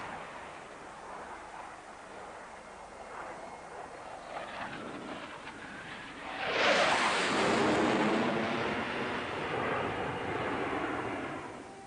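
A test airplane's engine drones faintly and distantly before swelling into a loud rushing roar as it passes overhead at Edwards at dawn, then fading slowly.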